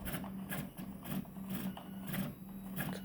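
Anycubic 3D printer on a CTC i3 clone frame after a TriGorilla motherboard swap, its axis stepping slowly up and down in short moves, giving a steady motor hum with a rhythmic pulsing whir and small clicks, close and continuous, with no talk.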